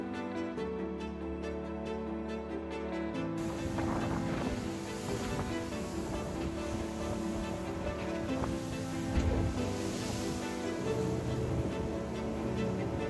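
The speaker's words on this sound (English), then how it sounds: "before the wind and the waves really started getting crazy" Steady wind and wave wash on open water off remote British Columbia, heard from a boat. A broad continuous roar with constant hull and engine rumble beneath it, and no talking.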